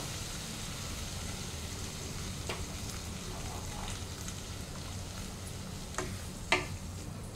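A spoon stirs potatoes into a simmering fish head and cabbage curry in a pan, faint scraping over a low steady sizzle, with a few sharp clinks of utensil against the pot near the end.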